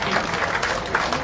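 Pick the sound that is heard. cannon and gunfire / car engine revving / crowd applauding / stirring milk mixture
crowd applauding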